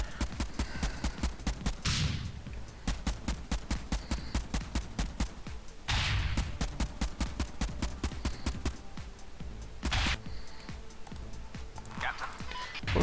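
Repeated cannon shots in the vehicle combat game Convoy ring out in rapid bursts, with rhythmic firing running through the whole stretch and several louder blasts standing out, loud and close.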